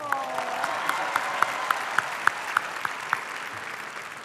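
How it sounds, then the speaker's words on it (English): A high school commencement audience claps together in sustained applause, a dense steady patter of many hands with a few sharper claps standing out, heard from within the crowd. "Let's give her a round of applause."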